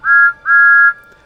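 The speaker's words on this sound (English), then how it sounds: "all of a sudden, Jack hears a friendly whistle" A Thomas the Tank Engine toy whistle gives two clear, loud, steady tones, a short blast followed by a longer one, then a faint tail, with no voices.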